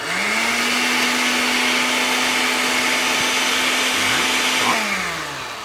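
A kitchen blender grinds Trini pepper sauce ingredients at medium speed, a loud steady motor whine with a churning roar that holds throughout, then winds down near the end.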